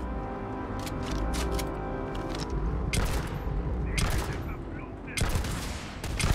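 Bursts of weapon fire in the sci-fi game Starfield, rapid cracking shots in clusters over a low droning score, with sharper volleys around the third and fifth seconds.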